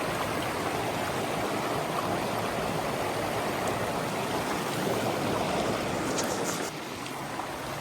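Continuous rushing stream water at a hiking trail crossing, a steady broadband wash of flowing water close by, holding level throughout and dipping slightly near the end, with no talk.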